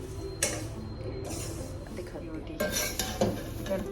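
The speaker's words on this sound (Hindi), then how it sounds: "तो ये जो फ्लैट पोहा था, मैं इसी को जस्ट रोस्ट कर ले रही हूँ।" Flat poha roasting in a pan, dry rustling stirred with a spoon, with clinks of the utensil against the pan and a steady low background hum.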